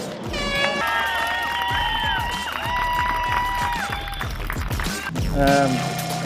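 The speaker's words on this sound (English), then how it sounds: "Make some noise for Alan Lenihan!" A crowd cheers and whistles loudly at a drifting competition while an excited voice shouts over an amplified system, with rumbling noise underneath.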